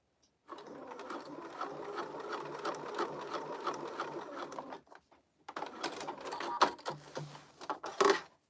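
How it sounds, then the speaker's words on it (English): Sewing machine stay stitching a tag in place on a crossbody bag, running in a long steady burst, pausing briefly, then resuming in shorter runs with a few light clicks near the end. "I'm just gonna stay stitch that in place."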